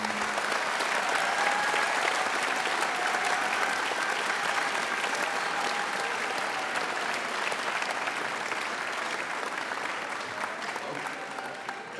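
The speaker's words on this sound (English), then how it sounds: "So just another round of applause for them for the amount of work they've done." A school band audience gives a long, dense round of clapping that stays loud and steady throughout, easing slightly toward the end.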